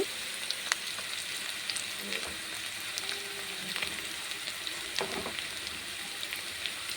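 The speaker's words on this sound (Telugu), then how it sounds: "ఓకే ఫ్రై అవుతున్నాయి కదా" Oil sizzles steadily in a pan while egg biryani is being cooked, with occasional sharp pops and crackles over a constant hiss and no talking.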